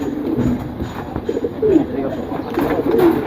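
Domestic pigeons from a breeder's collection give a couple of soft, low coos close by, over a murmur of background noise and faint voices.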